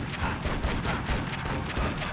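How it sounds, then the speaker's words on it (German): Gunfire in the PC action-adventure game Tomb Raider: Legend, a dense, continuous burst of rapid shots at steady loudness with no talking. "Paar gezielte Schüsse und der ist weg."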